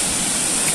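River water flowing in General Nakar, Quezon, a dense, steady rushing hiss heard close and alone for under a second.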